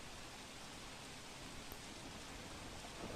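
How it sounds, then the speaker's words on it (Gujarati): Heavy evening rain falls over Patan, Gujarat, in a steady, even hiss throughout, fairly faint and uniform with no voices. "પાટણ શહેર સહિત જિલ્લામાં સાંજના સમયે ધોધમાર વરસાદ જિલ્લામાં વરસવા પામ્યો છે"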